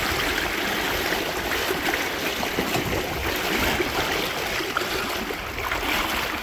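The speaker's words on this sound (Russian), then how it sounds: "теперь через речку пройду" A small river runs as someone wades across it, with a loud, continuous rush and babble of flowing water close by and no voices.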